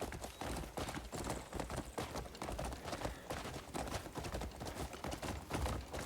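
Horse hooves in the video game Crimson Desert beat a quick, steady clip-clop rhythm at a fast riding pace, soft and continuous throughout.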